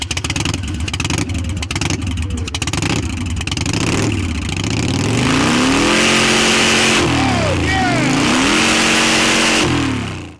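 A motorcycle engine at the Sturgis rally revs hard and close, its pitch sweeping up and down repeatedly before settling into a loud sustained roar.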